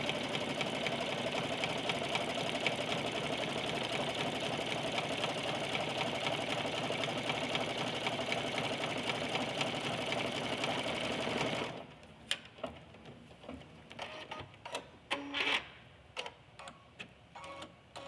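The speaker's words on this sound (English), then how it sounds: "And our little bear is done stitching." An embroidery sewing machine stitches a little bear design with a fast, steady mechanical whir for about twelve seconds, then stops, leaving scattered clicks and handling noises.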